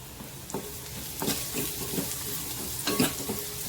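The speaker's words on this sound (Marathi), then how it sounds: "छान मसाले आपल्याला तेलावर परतून घ्यायचे आहेत" Ground spices, red chilli powder, asafoetida and grated ginger sizzle steadily in hot oil in a pan, with soft scrapes of a spoon stirring every second or so, close and fairly quiet.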